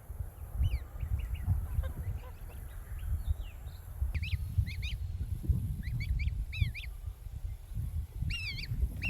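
Geese at a Queensland food forest give short honking calls in scattered pairs and bursts over steady outdoor background noise, moderately close but not loud.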